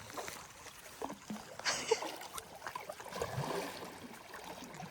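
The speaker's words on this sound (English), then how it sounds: "Flip your paddles around. Keep paddling." Kayak paddles dip and splash in open water during an awkward, backward-going paddle, with uneven strokes and gurgling swirls rising and falling over a few seconds at close range.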